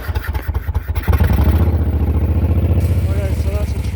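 A Moto Guzzi Eldorado motorcycle engine cranks with a few rapid clattering turns, catches on a cold start and settles into a loud, close, steady lumpy idle.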